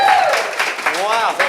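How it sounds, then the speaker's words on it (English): A live show audience applauding and cheering for an on-stage volunteer, loud voices and whoops riding over steady clapping for a brief moment. "Round of applause for our volunteer."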